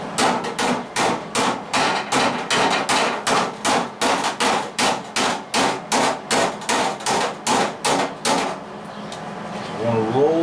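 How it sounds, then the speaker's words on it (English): Metal hammer striking a 1960s car front fender edge being rolled over after rust repair welding, a steady run of about twenty sharp ringing blows at an even pace, close and loud, then stopping. "If you hammer too much, you're going to take this edge and you're going to push it over."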